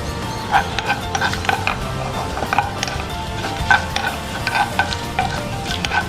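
Masala for a prawn and drumstick butter masala gravy frying in a pan, a steady close sizzle broken by repeated scrapes and clinks as a spoon stirs it, with no talking.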